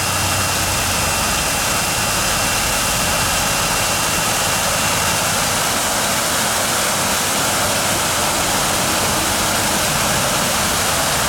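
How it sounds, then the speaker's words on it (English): Water gushes hard and steady from a freshly opened fire hydrant, a loud, continuous broadband roar lasting the whole stretch without any speech. "Go ahead and open the hydrant."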